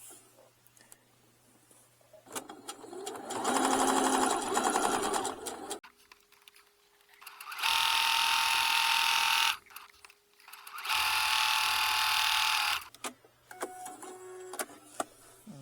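A sewing machine stitches a wallet in three loud, rapid bursts of whirring, clattering needle strokes, separated by pauses with quiet handling noises and light clicks.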